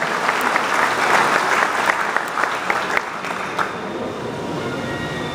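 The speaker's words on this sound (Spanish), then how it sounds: "Fuerte el aplauso" Loud, sustained applause from a crowd at a morning municipal political gathering of party structures, a dense steady wash of clapping that holds for the full stretch without pause.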